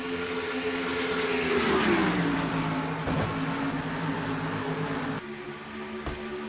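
Race cars roar around the oval at Auto Club Speedway in an NNSCRA Castrol GTX Cup Series racing game, a steady loud engine drone whose pitch sweeps downward as a car passes, with another car pulling through near the end.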